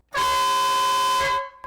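A loud train horn mounted on a vehicle sounds close by in one sustained, rich, multi-tone blast of about a second before cutting off, followed by a very brief second burst.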